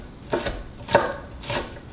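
A knife chops a pepper into small, corn-kernel-sized pieces on a cutting board, three separate crisp chops spaced evenly and heard close up.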